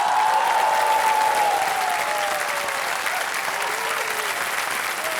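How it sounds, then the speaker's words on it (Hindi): Studio audience on the KBC quiz show breaks into loud, sustained applause for a contestant receiving a cheque, steady clapping with a faint musical tone gliding beneath. "तालियां बज जाएं इनके लिए।"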